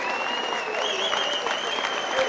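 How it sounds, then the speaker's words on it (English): Rugby league crowd of Oldham fans giving a big round of applause at a match against Warrington, a steady dense wash of clapping throughout, moderately loud and distant, with commentary audible over it. "Wally Jones getting a big round of applause from the Oldham fans."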